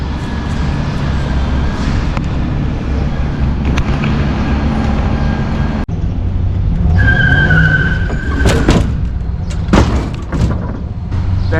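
A truck pulling off, with a loud steady engine rumble and road roar that shift partway through into scraping, clattering bursts and a rising whine, close up with no voices.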